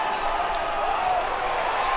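A crowd at a 2025 Syracuse vs Virginia college lacrosse game roars in a steady, broad wash of cheering and applause, with a commentator's voice running over it throughout.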